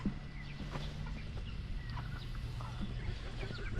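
Backyard chickens in a garden cluck softly in short, scattered calls over a low, steady background hum, with no clear talking.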